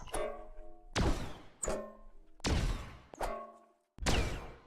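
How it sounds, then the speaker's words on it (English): Six separate pickaxe strikes from Fortnite, evenly spaced, each a hard thunk with a ringing, zappy tail like a small laser bolt, close and loud with brief pauses between. "It kind of sounds like each time you hit something, you're firing off a little laser bolt."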